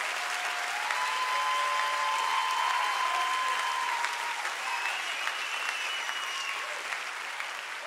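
Church congregation clapping together during a Sunday evening service, steady dense applause filling the room for the whole stretch, with a few faint whoops and voices mixed in.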